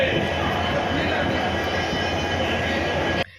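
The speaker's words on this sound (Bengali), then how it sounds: "তো এখন দীঘার ট্রেনে উঠে পড়েছি সবাই মিলে।" A passenger train bound for Digha from Howrah rumbles steadily from inside a carriage, a loud constant rolling roar with wheel and wagon noise that cuts off abruptly at the end.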